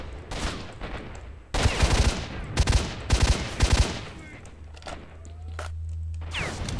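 Bursts of gunfire in the game S.T.A.L.K.E.R.: Shadow of Chernobyl in the abandoned city of Pripyat, several loud close shots in a rapid cluster, followed by quieter game sounds and a low hum.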